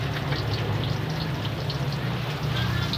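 Spices sizzle steadily in hot oil as they are stir-fried for tempe orek, a continuous crackling hiss that holds even throughout, with no speech.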